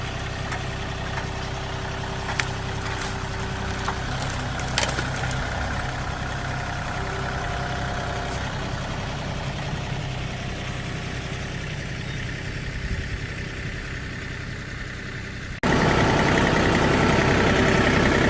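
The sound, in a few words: tractor with brush crusher running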